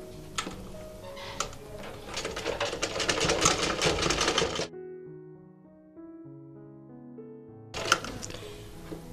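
A sewing machine stitches along the side of a homemade cloth mask, a dense run of rapid mechanical clatter for several seconds, then a quiet pause and a brief final burst.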